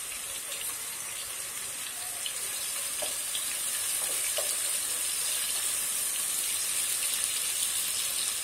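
Green chillies hit a hot frying pan for a lau chingri (bottle gourd and prawn) dish, giving a steady hissing sizzle that stays even and close throughout, with a few faint clinks near the middle.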